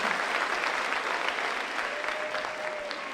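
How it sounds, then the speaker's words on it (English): A graduation crowd at a high school ceremony breaks into steady, dense applause, loud and continuous throughout, with a faint voice briefly rising beneath it. "round of applause"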